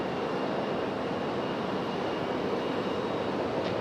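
Alaska Airlines jet heading out toward Seattle at Raleigh-Durham International, a steady broadband engine roar holding at constant loudness throughout, distant and continuous with no voices.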